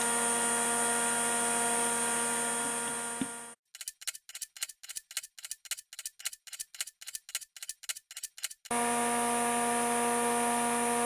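A vacuum pump pressing wood veneer onto a dashboard core while the glue sets, a steady loud hum that cuts out, gives way to a rapid series of evenly spaced ticks, then resumes its constant drone.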